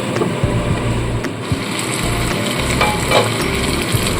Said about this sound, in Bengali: একটু নাড়িয়ে দেওয়ার পর আবারও ঢাকা চাপা দিয়ে দিচ্ছি।